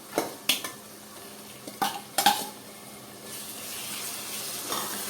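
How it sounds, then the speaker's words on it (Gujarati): Vegetables and masala for Surati green undhiyu being sautéed and stirred in a pan, with sharp clinks of a spoon against the metal pan over a soft, steady sizzle; no talking. "પાંચેક મિનિટ આ રીતે સાંતળી લેવાનું છે"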